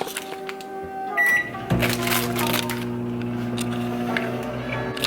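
A microwave oven runs on butter-flavoured popcorn, with a steady hum and scattered small pops and ticks over several seconds, close by and moderately loud.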